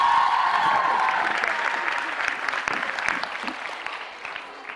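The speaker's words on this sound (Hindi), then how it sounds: "अरे तालियां बजाइए इस बात के लिए।" Audience at a Dev Anand quiz show bursts into dense applause, loud at first and gradually tapering over several seconds, with no talking.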